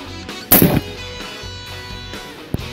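A single .308 rifle round fired on an outdoor shooting range: one sharp, loud report near the start with a brief tail, followed by quieter background and a faint second impact-like crack.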